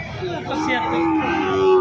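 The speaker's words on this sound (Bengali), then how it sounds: "এখানে আরেকটা সুন্দর গরু দেখছি।" A cow at a cattle market in Joypurhat gives a long, loud, close moo lasting nearly two seconds.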